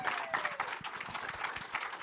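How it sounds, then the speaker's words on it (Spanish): An audience at a community charity event applauds warmly, a busy round of many hands clapping with some crowd murmur underneath, steady for the whole stretch. "quiero un fuerte aplauso por favor para Neto"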